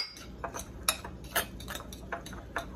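Breadcrumbs tossed with melted butter in a bowl, the utensil scraping and clinking against the bowl in a series of light, irregular taps and rustles, close and fairly quiet, with no talking.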